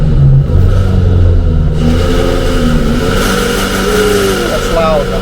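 BMW car engine on a cold start, roaring loud and close, its pitch rising and falling through rough revs before settling into a high idle, with a person talking over it.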